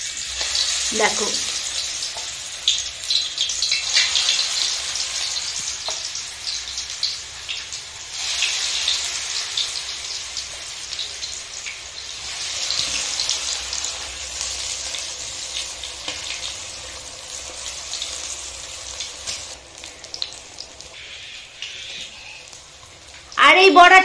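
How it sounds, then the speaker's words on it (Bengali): Lentil fritters (bora) frying in hot oil over a low flame, a continuous close sizzle and crackle running throughout, with a brief spoken word near the start. "আর এই বড়াটা ভাজতে গেলে কিন্তু আস্তে আস্তে জালটা দিতে হবে"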